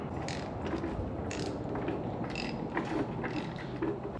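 A coupling nut is threaded by hand onto a pipe thread on a 1957 Gard'n Mast'r tractor, giving soft metallic ratcheting clicks and light creaks in an irregular rhythm, close and fairly quiet.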